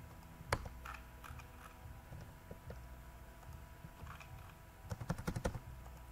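Keys clicking on a computer keyboard, a scattered run of taps and a quick burst of repeated presses near the end as text is deleted, moderately close with no talk.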